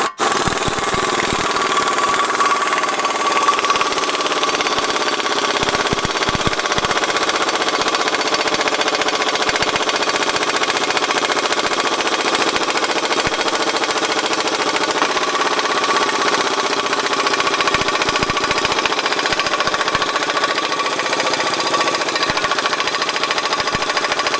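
An air compressor runs nearby, a loud, unbroken mechanical drone with a rattling edge that continues steadily throughout, with no one speaking.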